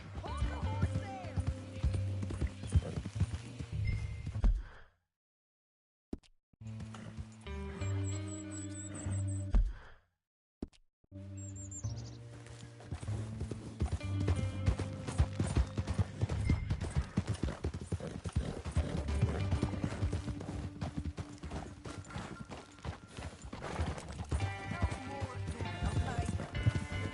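Horse hooves clip-clopping in the video game Red Dead Redemption, a steady rhythmic hoofbeat under game music and voices, briefly cutting out twice before resuming and continuing at a brisk pace.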